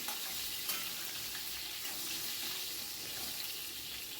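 Whole onions frying in hot oil while being stirred for a restaurant-style dish, a faint, steady crackling sizzle with soft scraping under it, and no voices.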